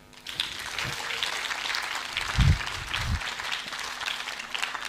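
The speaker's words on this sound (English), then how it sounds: "Clap for them" An audience at a literature keynote address gives moderately loud, steady applause lasting a few seconds, with some thumps and low murmuring beneath the clapping.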